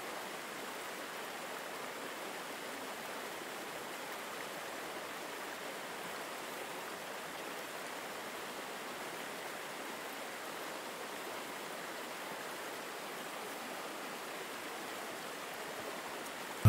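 Steady rushing water from a garden waterfall cascading over rocks, a soft, even hiss of flowing water that continues unbroken and moderately faint, with no voices.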